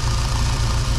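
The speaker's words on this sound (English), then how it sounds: "New ECM in the Jeep, and it's actually running." 1988 Jeep Wrangler engine idling close by after a new ECM was fitted, a steady, rumbling low pulse with a slightly uneven rhythm and no voices.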